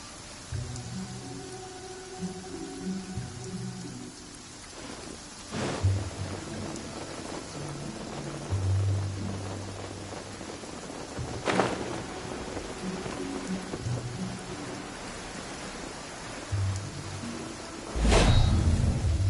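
Steady rain falls in the video game Genshin Impact, with three sharp thunder cracks at spaced intervals and a low rumble at the end, all under soft background music.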